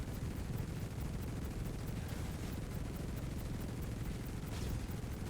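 Spaceship guns firing during a Star Citizen bounty hunt: a steady, dense roar of rapid shots that runs without a break for the whole stretch, fairly quiet and with no talk over it.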